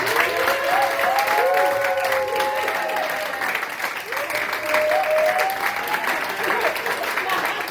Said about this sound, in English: Huge round of applause for Patricia Stamper.